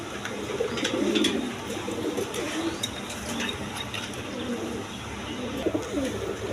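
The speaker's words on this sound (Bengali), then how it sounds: "এখানে এক পেয়ার কালদম কবুতর আছে" A pair of Kaldam pigeons coo steadily in soft, low rolling calls over a busy background, with occasional faint chirps and clinks nearby.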